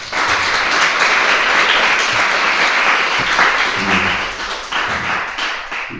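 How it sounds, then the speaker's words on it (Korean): A church congregation bursts into loud, sustained applause, many hands clapping together in a dense wash that thins slightly toward the end, with a few scattered voices underneath. "우리 힘내라고 박수 한번 칠까요?"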